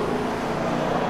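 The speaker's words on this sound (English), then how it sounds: "It's got Flowmaster dual exhaust on it." A 1971 Chevrolet Corvette with Flowmaster dual exhaust idles with a steady, low rumbling drone, heard briefly and alone.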